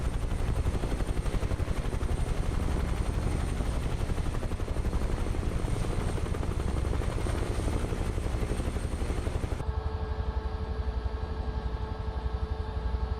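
In Microsoft Flight Simulator 2024, a helicopter's rotor chops loud and continuous with a fast steady thump over a broad engine roar. Near the end it shifts to a cleaner, more tonal whine.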